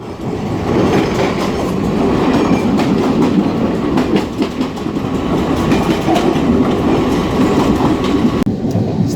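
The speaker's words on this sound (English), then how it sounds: "So that's our first local train." A Mumbai local train runs with a loud, continuous rumble and steady clickety-clack of wheels over rail joints, heard from inside the carriage throughout.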